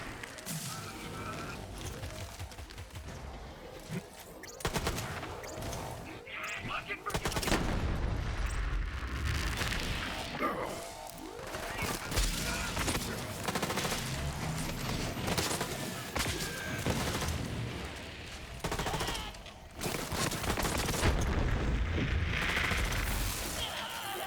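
Rapid gunfire and booming blasts from a Borderlands 3 firefight, shooting at glowing white orbs on stunned enemies while waves of bots close in, dense and continuous throughout with loud bursts stacked over the game's background noise.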